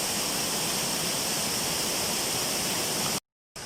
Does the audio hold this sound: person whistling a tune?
no